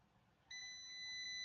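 A digital multimeter's continuity beep, steady and high-pitched, starts abruptly and holds continuously, clear and close against a quiet background, while testing Xbox 360 controller pins.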